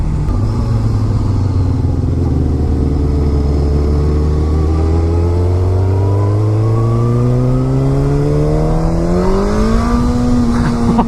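A Suzuki GSX-R1000 liter-bike engine pulls hard under a quarter turn of throttle, its loud, close, continuous roar climbing steadily in pitch for about eleven seconds with no talking.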